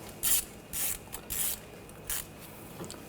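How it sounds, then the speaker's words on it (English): A ratchet with a 10mm socket turning the speed sensor bolt on a 2014-2020 Nissan Rogue, several short, close clicking bursts of the pawl separated by brief pauses. "Now using a 10mm socket, take this bolt out."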